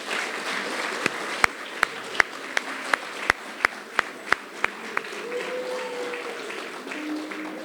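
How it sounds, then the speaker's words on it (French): At an eloquence tournament evening, an audience claps for the ten candidates: about a dozen sharp, evenly timed claps ring out in a steady beat over a low crowd murmur, then fade into quiet room noise. "on peut applaudir les 10 candidats"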